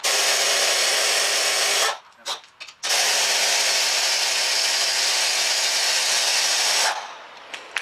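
A power tool loosening the 18mm rear brake carrier bolts on a Vauxhall Astra whirs loudly and continuously, cuts out briefly with a few short bursts, then runs again before stopping.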